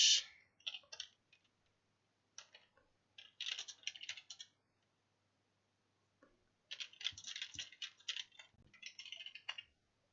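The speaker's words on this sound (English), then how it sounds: "Oh, typing." Close, quiet clattering of fingers typing on a computer keyboard, coming in several irregular bursts of rapid keystrokes separated by short pauses.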